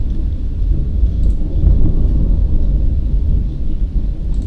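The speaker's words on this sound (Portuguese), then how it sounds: "Claramente está trovejando aqui, né?" Thunder rumbles loud and close during a heavy rainstorm, a continuous deep roll swelling midway, with no voices over it.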